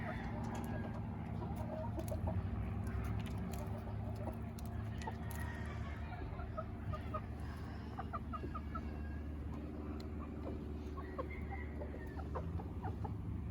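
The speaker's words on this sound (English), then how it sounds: "You're the big boss hen." Hens clucking softly as they settle to roost for the night in a backyard coop, scattered low murmurs and brief calls over a constant hum, faint and mid-distance.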